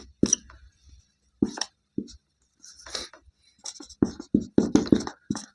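Pen writing an equation by hand on paper during a Class 10 maths lesson on polynomials, heard as close, intermittent scratchy strokes in short bursts with pauses between them, with no talking.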